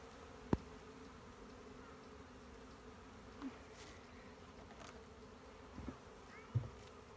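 Low, steady buzzing from many honeybees in a hive, a continuous droning hum with a few brief knocks and bumps scattered through it.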